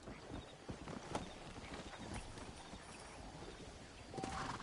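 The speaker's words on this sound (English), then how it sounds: "Oh, these horses." Horse hooves clip-clop steadily in the Red Dead Redemption video game, a fairly quiet, even trotting rhythm under faint ambient game sound, with no talk.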